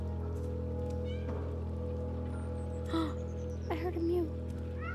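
In the video game Stray, a cat gives two short meows over a steady low electronic hum, with faint game ambience and a thin high tone sliding downward between them.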